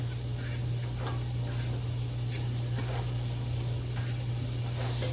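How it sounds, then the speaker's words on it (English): Ingredients for chicken alfredo sauté in a pan, producing a steady, close sizzle with faint crackles over a constant low electrical hum. "Turn that back up. Let that saute."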